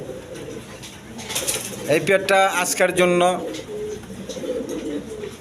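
Blackless Bunty net pigeons coo softly in a pigeon seller's loft, their low murmuring running under someone talking close by.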